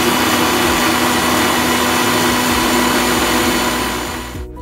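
A blender jar crushes ice cubes with powdered sugar for cold coffee, running as a loud, steady motorized grinding roar that holds for several seconds, then cuts off abruptly at the end.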